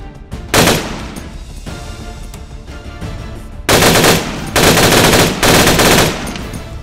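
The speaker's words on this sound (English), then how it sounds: "Weapons will have appropriate rate of fire selection ability." Automatic weapon fire in a tactical shooter video game, several loud, close sustained bursts of rapid shots separated by short pauses, with no speech.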